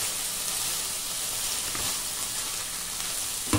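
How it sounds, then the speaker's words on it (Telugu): Broad beans (chikkudukaya) frying in hot oil give a steady, dense sizzle with a faint stir near the end, close and alone without talk. "చిక్కుడుకాయల్ని నూనెలో వేగనివ్వండి."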